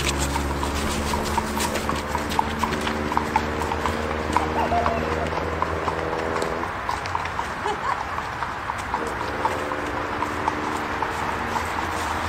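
Steady, rhythmic horse-hoof clip-clopping plays continuously and loudly as a comedy sound effect, with a constant droning tone underneath and people talking over it.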